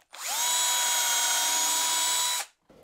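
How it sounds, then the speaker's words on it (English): A power drill with a small pilot bit bores holes into wood in a home workshop, its motor winding up to a steady high whine for about two seconds and then stopping abruptly. "I'm just gonna drill some holes before I get those screws in."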